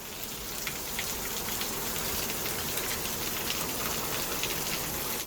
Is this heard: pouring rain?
yes